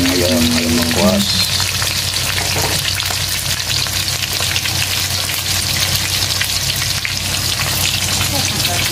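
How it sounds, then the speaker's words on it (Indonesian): Galangal chicken (ayam lengkuas) fries in hot oil with a loud, dense, steady sizzle and crackle, heard close up, with a brief voice near the start. "Tuh, goreng ayam lengkuas."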